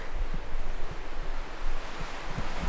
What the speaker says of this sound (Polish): Straszliwie wieje